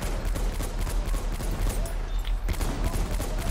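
Pistol gunfire from a Colt 1911 during a Battlefield 1 match, a dense run of sharp shots with other battle noise in steady game action.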